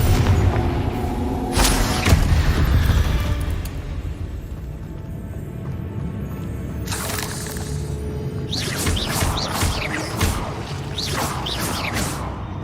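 Confringo and Depulso spell blasts in Hogwarts Legacy, booming impacts and crashing debris with whooshing bursts, repeated several times at close range amid game effects.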